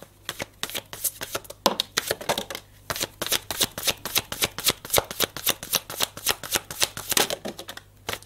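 Tarot-style cards are shuffled for a reading in quick, crisp riffles and flutters that repeat rapidly and close by, with no voice over them.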